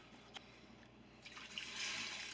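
Water sloshing inside a jar holding leftover Alfredo sauce as it is shaken, a soft, faint liquid swirl that builds toward the end, with no talking.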